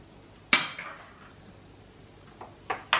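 Eggs cracked one at a time against a bowl or counter for a simple omelette: a sharp, close tap with a short crackly tail, then quieter taps and two more crisp knocks near the end, alone in a quiet kitchen.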